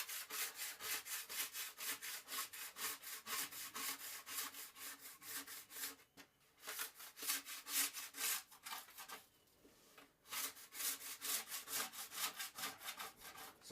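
A plastic scraper rasps excess wax off a GNU snowboard base in rapid, rhythmic back-and-forth strokes, close and steady, with two brief pauses between runs of scraping.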